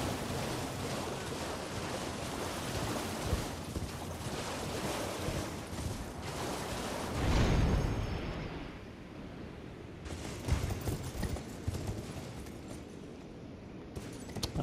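A wind tunnel in the video game Elden Ring roars steadily as a broad, airy whoosh. It swells briefly in the middle and then settles into a continuous rushing drone.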